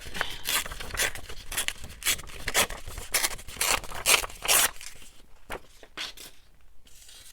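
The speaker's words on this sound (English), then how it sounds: "Tear this at the bottom." Paper being torn by hand for an envelope journal, a series of close, sharp ripping strokes in irregular bursts, fading toward the end, with no talking.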